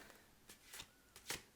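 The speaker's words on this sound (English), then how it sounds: "the part of the video where I shuffle the cards" Tarot cards being shuffled by hand in quiet, brief riffling bursts, close but soft, with no talking.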